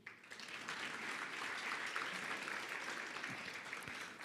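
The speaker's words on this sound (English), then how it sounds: "let's give a round of applause to Ms." A conference audience applauds a speaker at an occupational health and safety event, giving steady, even clapping from a sizable crowd that holds for several seconds at a moderate distance.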